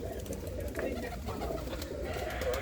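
Pigeons coo in a continuous low murmur, close by and fairly loud, with a voice faintly present among them.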